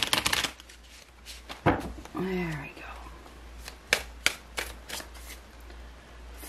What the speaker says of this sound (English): I just gotta get these really good and shuffled.